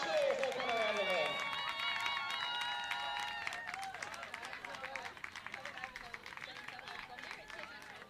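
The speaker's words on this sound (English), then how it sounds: "Please give these dogs a huge cheer as they come around the ring." A crowd in a show ring at the Dogs QLD Dog of the Year 2024 event applauds and cheers as dogs are paraded, a faint, steady wash of clapping heard from a distance after a brief voice at the start.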